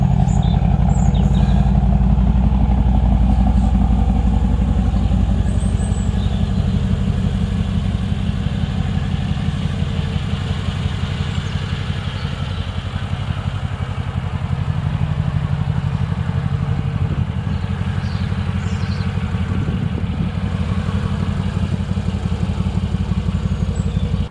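The engine of a McLaren 675LT Spider rumbles loudly and steadily at close range for over twenty seconds, a deep, continuous idle with slight shifts in tone and no talking over it.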